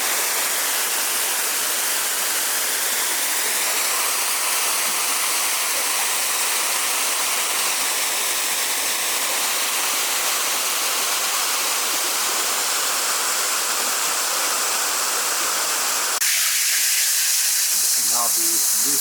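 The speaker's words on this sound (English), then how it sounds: "Flows over about a 25-foot high cascade. More water jets are blasting it up about 50 feet higher than I am." Water jets and a 25-foot cascade in an Italian garden roar with a steady, dense rush of falling and spraying water that fills the air continuously, before cutting abruptly to quieter surroundings with faint voices.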